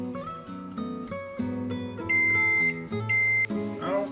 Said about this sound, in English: our timer just went off